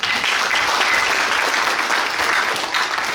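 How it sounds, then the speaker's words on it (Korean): Sustained applause from delegates at a union branch meeting, a dense, even clapping that fills the room at full volume for the whole stretch. "동지들 일단 박수로 축하해 주십시오"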